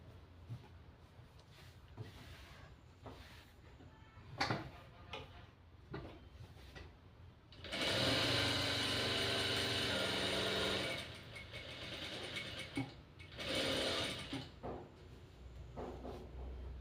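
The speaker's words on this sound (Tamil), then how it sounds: "ஃபர்ஸ்ட் டைம் பவர் மிஷினில் வந்து ப்ளவுஸ் தைக்கிறேங்க." A power sewing machine stitches a lined blouse, whirring in a loud, steady run of about three seconds and a shorter burst later, with clicks and fabric handling in between.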